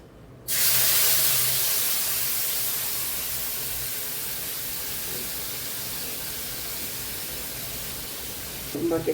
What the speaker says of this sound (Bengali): এখন আমি তেলের মধ্যে দিয়ে দিচ্ছি।